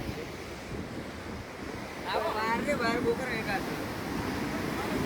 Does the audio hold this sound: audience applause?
no